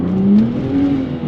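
A stuck BMW E90 revs its engine as the wheels spin in place, a loud, sustained drone with a rising pitch that holds steady and close, with no talk over it.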